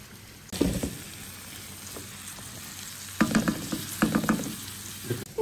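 Tomatoes and onions fry in a pan for a chutney, a steady close sizzle broken by several bursts of louder crackling and stirring as the pan is worked.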